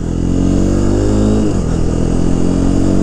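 A 2016 Honda CBR 300R motorcycle on the road makes a steady, loud engine drone with strong low harmonics and a brief dip in pitch about halfway through, like a gear change, with no talking.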